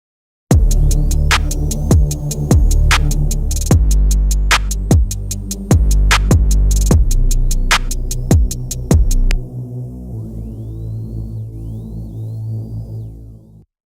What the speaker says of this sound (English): So you got a bass below an 808.